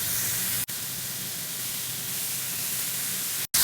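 Twelve small burger slider patties sizzle in a skillet, giving a loud, steady, close hiss that holds throughout with two brief cut-outs.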